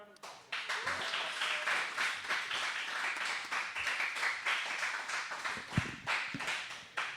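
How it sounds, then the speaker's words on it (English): Audience applause after a college applications seminar, steady broadband clapping sustained throughout from a room of people, with a few louder individual claps standing out near the end. "let's give John a round of applause"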